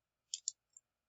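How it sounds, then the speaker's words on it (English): A few quick clicks of keys on a computer keyboard, two close taps and a fainter third, quiet and isolated. "So if I type ls"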